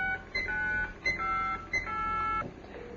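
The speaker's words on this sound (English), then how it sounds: "Ring. And it's ringing." An electronic phone ring tone of repeated beeping bursts, three short pulses in quick succession, fairly clear with no voices.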